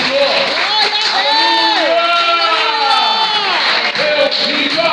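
Church congregation in Brazil applauding and cheering loudly and continuously, with whoops and shouts rising over a steady roar of clapping, close and full throughout.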